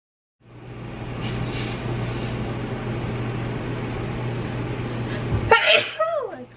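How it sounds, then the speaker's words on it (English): One sneeze near the end of the clip, preceded by a steady low mechanical hum that cuts out just before the burst, followed by a brief vocal exclamation. "I need to sneeze."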